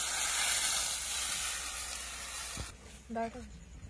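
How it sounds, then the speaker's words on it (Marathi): Water hitting a hot Maharashtrian tempering for a dal-phal (chakolya) dish gives a steady close sizzle and hiss, fading after a few seconds, with a short clink and scrape of a utensil near the end. "तर मी आता याच्यामध्ये 1-2 ग्लास पाणी टाकणार आहे"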